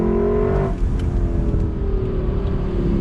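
A 2021 Lexus LC 500 V8 engine revs on throttle, a loud, close, smooth droning roar whose pitch sweeps upward then settles into a sustained high growl.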